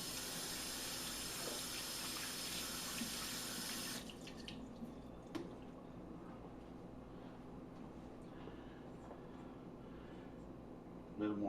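A kitchen tap runs steadily and close by for about four seconds while hands are rinsed during pork butt prep, then shuts off, leaving quieter handling noises and a small clatter.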